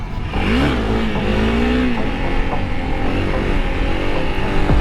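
A motorcycle ridden on the street during wheelies, its engine revving loudly and rising in pitch, then holding a strong, close drone.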